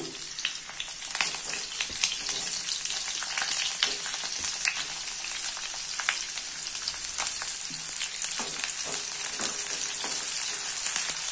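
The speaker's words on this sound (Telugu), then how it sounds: "ఇలా ఫ్రై అవుతున్నప్పుడే కట్ చేసిన ఉల్లిపాయలు కూడా ఇందులో వేసుకోవాలి." Mushrooms and chopped onions frying in oil for a curry, a steady close sizzle with crackling pops and occasional stirring scrapes throughout, no voices.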